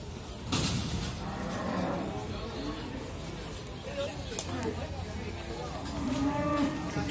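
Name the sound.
cattle mooing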